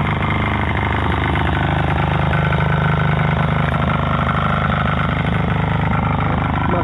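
A tractor engine runs steadily and loudly up close, a continuous rough mechanical drone with no pauses throughout.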